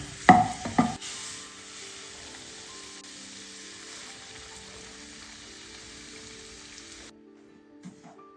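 Semolina roasts in a pan for rava laddu, a faint, even sizzling hiss after a few clattering stirs at the start, then fading to quiet near the end.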